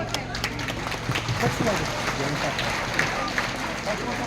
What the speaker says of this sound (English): Please have a round of applause for them.